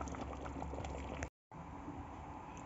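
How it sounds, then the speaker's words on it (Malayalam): A pot of hotel-style sambar with lentils and vegetables bubbles at a rolling boil, a steady close, soft gurgling broken by a brief gap of silence before the bubbling resumes. "നന്നായിട്ട് തിളച്ച് വന്നിട്ടുണ്ട്"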